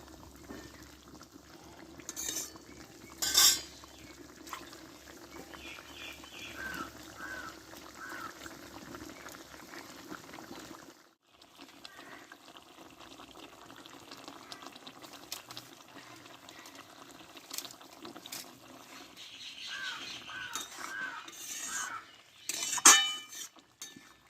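Small fish being stirred into a village-style cauliflower and potato curry in a pan: soft wet sloshing and bubbling with scattered metallic clinks of the spoon against the pan, close and fairly quiet, with a couple of sharper knocks near the end.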